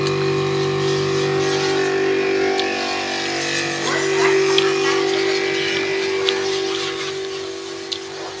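An electric pressure washer runs steadily while washing a car, drawing water from a filled drum. Its motor gives a continuous, even mechanical hum at moderate distance, with a few faint clicks and spray noises over it.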